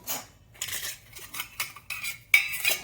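Parts of an Ohuhu stainless steel wood-burning campstove clink and clatter as they are handled and fitted together, a run of sharp, close metallic taps and scrapes with short quiet gaps between them.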